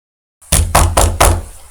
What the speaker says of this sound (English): there was a knock upon the door